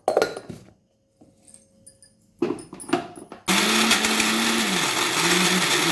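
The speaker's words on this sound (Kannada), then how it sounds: "ಇವಾಗ ಚಟ್ನಿ ರುಬ್ಬಿ ಆಗಿದೆ" A kitchen mixer grinder grinds chutney made with salt, a little sugar and water. A few light clinks and knocks come first, then the motor starts with a loud, steady whirring roar that holds to the end.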